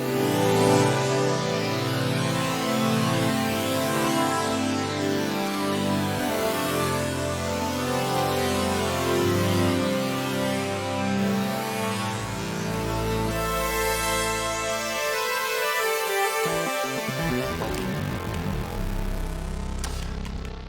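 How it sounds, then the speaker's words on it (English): Arturia Prophet synthesizer plugin, modelled on the Prophet 5 and Prophet VS, plays a dense, sustained chordal passage with shifting notes and a bright upper shimmer, steady and loud throughout with no voices. "This is a Prophet and the Prophet Vector, and it sounds like this."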